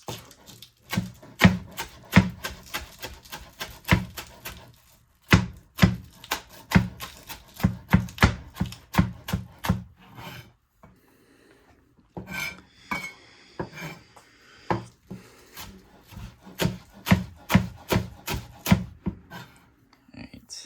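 A knife chops green onions very thin in quick, rapid bursts of crisp taps on a cutting board, with brief pauses between runs, close up and clear, no voices over it.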